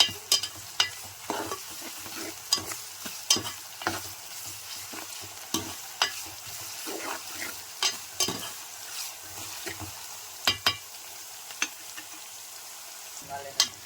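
Onions frying in a pan with coarse salt for boti curry, sizzling steadily while a spoon stirs them, with repeated sharp scraping clacks against the pan every second or so, close and fairly quiet, with no talking.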